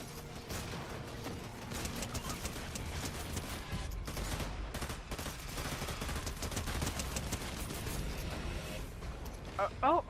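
Dense video-game gunfire crackles in rapid, overlapping bursts throughout, loud and sustained, with brief lulls and a voice talking over the shooting.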